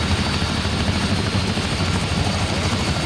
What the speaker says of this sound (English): Hard to hear with the helicopter going.